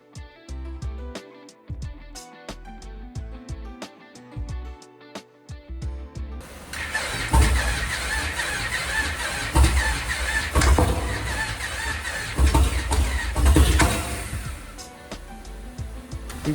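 Motorcycle engine, just after a battery charge, coming to life: a regular ticking cranking rhythm for several seconds, then a dense, steady running roar that holds close and loud to the end, with no talk.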